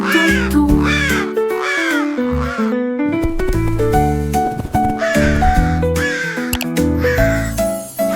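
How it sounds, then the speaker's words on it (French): Crows caw loudly over and over within a cheerful, rhythmic French children's travel song, the harsh calls mixing with bright melody and accompaniment throughout. "Un chant de corbeaux tout autour."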